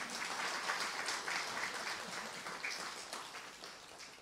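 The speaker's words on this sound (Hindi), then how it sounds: "तालियां तो बजाओ जरा।" Audience applause at a spiritual discourse, a steady wash of clapping held at an even level for the whole stretch, with faint voices mixed underneath.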